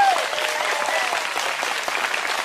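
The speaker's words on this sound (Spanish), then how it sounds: "Aplauso para el hermano." A congregation applauds at a religious debate on images and idols, giving a short burst of steady, dense clapping from a crowd that stays loud and even throughout.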